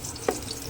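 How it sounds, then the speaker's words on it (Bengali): Potatoes fry in hot oil in a wok with a steady, close hiss of sizzling and a single brief clink partway through. "আলুগুলো কিন্তু তেলের মধ্যে দিয়ে লাল করে ভেজে নেবে।"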